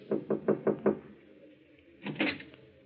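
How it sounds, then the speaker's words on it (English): Five quick, firm knocks rap on a manager's office door at a café, then a brief pause and two softer knocks follow, close and clear with no talk. "He hesitates a moment, glances at the two men beside him, and knocks."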